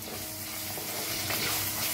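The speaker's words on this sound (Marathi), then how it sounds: "ह्याच्यात टाकूया अद्रक लसूणचं पेस्ट, त्याला बी मिक्स करून भाजून घेऊया" Ginger garlic paste fries and is stirred in a pan for a batch of matki usal, a steady close sizzle with faint scraping throughout and no voices.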